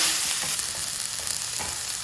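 Thuthi leaves sautéing in a hot pan give a dense, steady sizzle with light stirring scrapes throughout.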